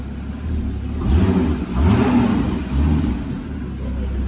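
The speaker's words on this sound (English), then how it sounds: "So that's in the quiet position. Give it a little rev." A Porsche 981 with a retrofitted sports exhaust set to its quiet position idles, then gives two or three short, moderate revs that swell and fall back to a low, smooth idle.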